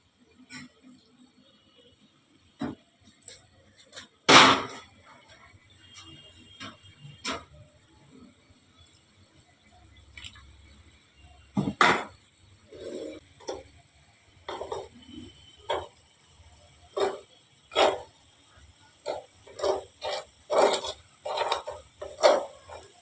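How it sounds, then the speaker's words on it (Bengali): Cornflour being stirred into water in a bowl for Bombay Karachi halwa, a spoon clinking against the sides in irregular light taps, one sharp knock early on, closer taps quickening near the end. "আমি এই কর্নফ্লাওয়ারটাকে একটু জল দিয়ে গুলবো।"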